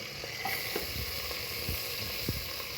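Pandan leaves dropped into hot oil for a country-chicken biryani give a steady, broadband sizzle with a few soft crackles and pops, close and continuous throughout.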